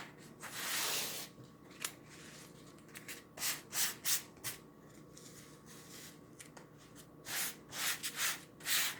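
Rubbing over a chalk transfer on a smooth surface to fuzz it, heard as soft, close scrubbing strokes in irregular bursts with short pauses between them, fairly quiet and without talk.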